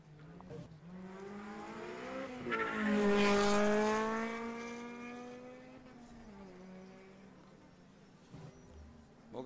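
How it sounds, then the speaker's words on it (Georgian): A Subaru Impreza rally car revs at the start of a hill-climb championship round at Didgori, its engine note rising to a loud peak then easing off, heard alone from nearby. "ეს კი სტარტზე ეზუგბაია ბაბიოლაძის ეკიპაჟი იმყოფება სუბარუ იმპრეზით."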